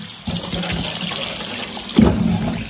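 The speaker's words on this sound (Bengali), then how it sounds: "গোস্ত ধুয়ে নিছি, গোস্ত মানে একদম তাজা গোস্ত" A tap runs steadily into a sink while fresh buffalo meat is washed, a close, continuous splashing rush that grows louder and more gurgling toward the end, no voices.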